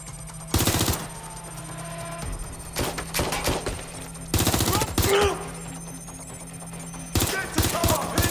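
Gunfire in the video game Watch Dogs Legion, with several loud bursts of rapid automatic fire separated by short pauses and scattered single shots over a constant low background hum, without speech.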